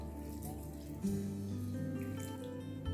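Water being poured into a multicooker over pilaf ingredients, a steady close trickle and splash running throughout with no talk.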